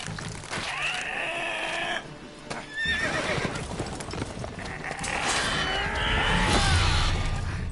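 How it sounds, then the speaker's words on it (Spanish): Horses in the video game The Witcher 3 whinny and neigh several times, with clip-clop hooves and a shrill cry among them, close and fairly loud over a low in-game background. "Hostia, se está comiendo al caballo."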